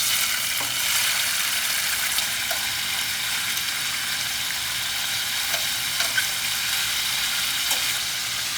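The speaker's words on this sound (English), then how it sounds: "get the beef and throw it in, sear it, and cook it up for a few minutes until it gets nice and brown." Beef searing in hot olive oil in a pan, a steady broadband sizzle that holds evenly and close throughout, with a few faint pops and crackles.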